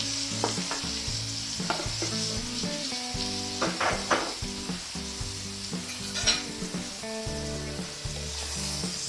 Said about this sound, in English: A nice big old slab of butter. Put that right in there.